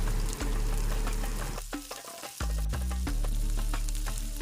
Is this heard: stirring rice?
yes